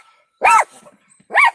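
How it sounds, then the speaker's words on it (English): A dog gives two sharp, loud barks about a second apart, each short and close, with quiet gaps around them. "So Bella don't jump out and kill that dog"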